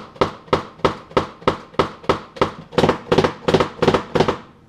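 A kick drum captured on a GoPro thumps in a steady series of about twelve loud, punchy hits, evenly spaced and close, with a few slightly heavier strikes toward the end.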